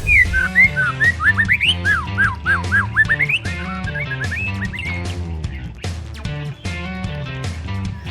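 A white-rumped shama sings a quick string of bright, sliding whistles and chirps, loud and close, over a steady musical backing with no speech.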